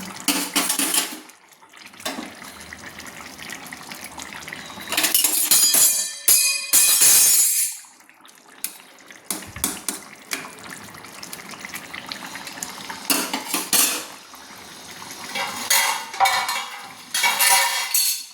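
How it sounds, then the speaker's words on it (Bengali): Utensil scraping and clinking against a pan as Bengali rui fish curry with cauliflower is stirred, in irregular bursts of close metallic scrapes with liquid sloshing, no talk. "এইভাবে সুন্দর করে আস্তে আস্তে করে দেখুন নেড়ে নিতে হবে"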